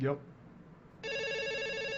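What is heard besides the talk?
telephone ringing on a call-in phone line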